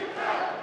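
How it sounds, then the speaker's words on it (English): A loud, dense crowd at a featherweight kickboxing fight roars and yells continuously, a broad wash of many voices rising slightly midway through. "Listen to this crowd"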